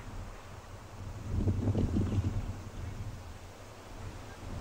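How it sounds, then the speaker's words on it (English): Strong wind buffets an outdoor microphone at an African waterhole, a low rumbling roar that swells in the middle and stays steady, with no talk. "You can see it's quite windy"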